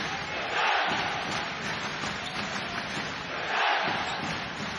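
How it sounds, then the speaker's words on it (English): Loud basketball arena crowd at a Lebanon versus New Zealand Asia Cup quarterfinal, a dense sustained roar with two brief louder surges, heard without any talk over it. "Great crowd, about as loud as the one that New Zealand faced when they played in Beirut in 2017"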